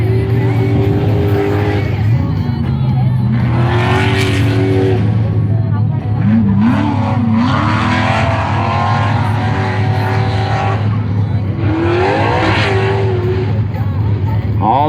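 A pro stock racing truck, number 3, making its run at a drag strip: a loud, continuous engine roar with rising revs and tire noise, with a crowd and an announcer talking over it throughout.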